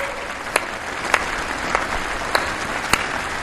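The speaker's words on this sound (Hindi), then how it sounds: "हमारे खिलाड़ियों के सम्मान में आइए कुछ पल तालियां बजा करके उनका सम्मान करें" Crowd applause at an Independence Day ceremony honouring athletes, steady clapping from a large audience with a few sharper claps standing out, no voices over it.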